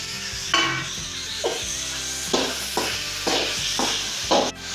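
Chopped ginger, garlic and green chilies sizzle in hot oil in a pan for a chicken thoran, a loud, steady fry broken by several sharp bursts of stirring and scraping from a spoon.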